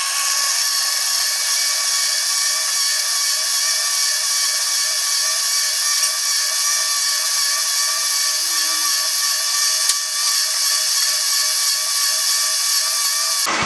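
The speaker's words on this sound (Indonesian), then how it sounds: "maka kita blender hingga benar-benar halus" A high-pitched blender motor whirs steadily and loudly for the whole stretch, a constant grinding drone close by, grinding garlic into a plant pesticide.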